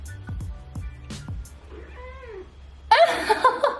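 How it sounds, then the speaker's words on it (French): A cat meows when its back is touched, giving a clear sliding call in a quiet room, followed by a louder burst of rustling noise at the end. "quand je lui touche le dos, à chaque fois elle miaule normalement"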